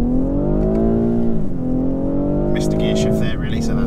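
A 2019 BMW X5 40i SUV accelerating hard, its engine droning loud and steady as pitch climbs, dips briefly at a gear change, then rises again, with a voice talking over it.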